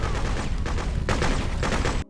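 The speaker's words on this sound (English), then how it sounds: "The bulk of the weapons don't really sound as punchy as they should." Rapid bursts of gunfire from the video game Freedom Fighters, several sharp shots in quick succession, loud and close, cutting off abruptly.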